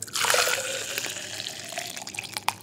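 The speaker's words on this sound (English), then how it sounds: "pour number two was hot" Hot water poured into a container, a close, steady splashing pour that rises quickly, holds for a couple of seconds and ends with a few light drips, with no voices.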